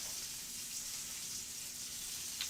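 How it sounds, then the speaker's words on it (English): Vegetables pan frying in olive oil give a steady, close sizzle that holds evenly throughout, with a faint brief clink near the end and no talking. "Start pan frying the vegetables"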